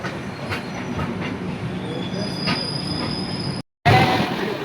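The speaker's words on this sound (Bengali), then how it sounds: "বালুগাঁও রেল স্টেশনে 1 নম্বর প্ল্যাটফর্মে এসছে আমাদের ট্রেন।" Howrah–Chennai Mail train (12839) at Balugaon station platform, a steady close rumble of rolling railcars with wheel squeal and faint clickety-clack, broken by a brief gap before the noise resumes louder.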